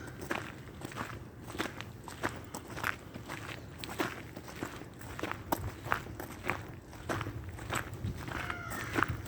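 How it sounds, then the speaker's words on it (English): Footsteps crunch steadily on a gravel road during an outdoor walk through a neighborhood in Washington DC, a rhythmic series of close, gritty crackling steps with no talk. "That crunching sound, we're walking on the roads are like gravel roads"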